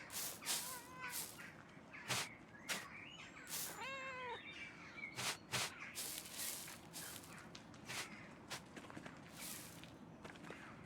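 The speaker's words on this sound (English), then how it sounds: "I can pet the cat!" A cat named Mastfanger in the video game Pentiment meows several times as it is petted, short rising mews scattered among soft footsteps and light taps in a quiet room.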